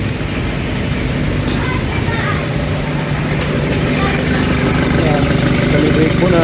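A loud, steady Isuzu Trooper engine idles close by, a continuous rumble with no change in pace throughout.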